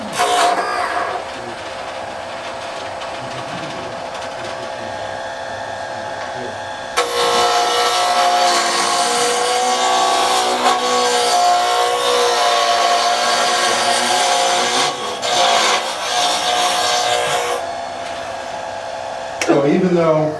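A wooden spinning top turns on a lathe under a spindle roughing gouge, making a loud, sustained whirring whine with rougher cutting bursts that swell and drop as the tool engages and lifts.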